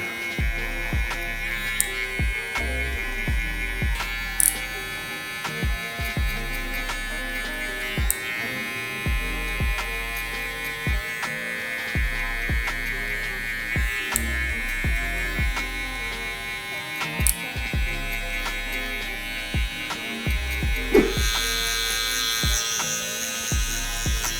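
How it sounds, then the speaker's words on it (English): Steady buzzing of an electric hair trimmer and shaver running close up while cleaning a low taper haircut's zero line, with intermittent clicks and bumps as it moves, no talking. "I'm gonna polish up that zero line by hitting it with the trimmer and the shaver"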